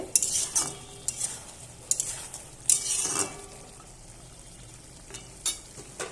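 Country chicken curry in a pot, uncovered, with bursts of stirring and scraping and a soft simmering sizzle between them, all fairly close and with no talking.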